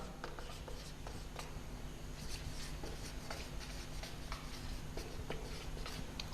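Marker or chalk strokes drawn on a classroom board during a lesson on coal and petroleum use, a steady scratchy rubbing with short repeated strokes close by, over a constant low hum, with no talk.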